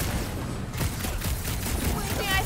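Rapid bursts of gunfire and booms in the Marvel's Guardians of the Galaxy video game, dense and loud combat noise running throughout with voices mixed underneath.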